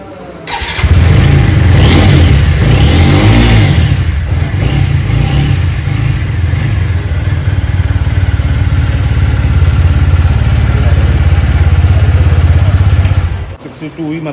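A newly delivered motorcycle engine starts with a crank and then runs loud and close for over ten seconds, a steady low throbbing idle with light revving, before cutting off at the end.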